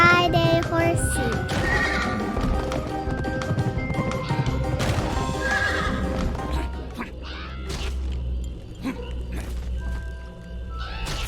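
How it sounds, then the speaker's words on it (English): Horse neighing and hooves from the horse-riding minigame in the Pumpkin Jack game, with whinnies and clip-clop over a busy, steady game soundtrack and effects, fairly loud throughout. "A horsey riding minigame."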